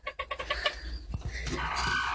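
Broody hen clucking: a series of close, quick, rough clucks and grumbling calls, then a longer drawn-out growl-like vocalisation, with no talking.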